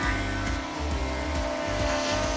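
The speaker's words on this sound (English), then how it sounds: "this is how the Mini 4 is sounding on the ground with this microphone." DJI Mini 4 Pro drone motors spinning while the drone sits on the ground, making a steady, dense buzzing whine with a rough, even drone that stays loud throughout with no pauses.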